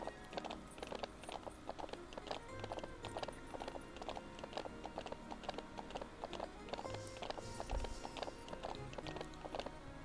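Horse hooves in the video game Ranch of Rivershine clip-clop steadily in a quick rhythm, faint and game-like, with mechanical clicking and ratcheting sounds mixed throughout.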